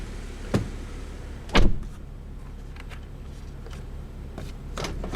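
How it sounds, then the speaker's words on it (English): A BMW 435i F32 car door closes with a solid thud, accompanied by a few lighter clicks and knocks inside the cabin over a low steady hum, no voices. "I'm going to close my door."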